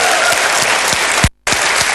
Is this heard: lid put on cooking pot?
no